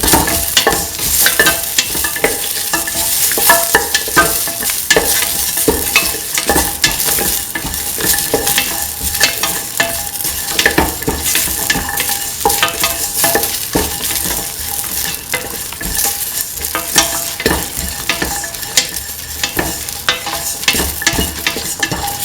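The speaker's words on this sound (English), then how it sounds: "keep on stirring." Stirring ginger and salt into a sizzling pot of lentil carrot stew, a loud continuous frying hiss with repeated scraping spoon strokes throughout, no talking.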